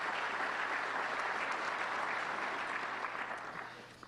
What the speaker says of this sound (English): a round of applause for Jerry